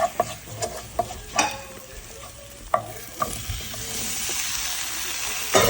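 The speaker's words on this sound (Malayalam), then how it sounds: "മുളക് ചതച്ചതും കുറച്ചിട്ട് കൊടുക്കാം എന്നിട്ട് നന്നായിട്ട് ഇളക്കി ഒന്ന് മുരിച്ചെടുത്തിട്ട്" Crushed chili frying in a pan gives a steady sizzle that swells toward the end, punctuated by sharp scraping taps of a spoon stirring several times.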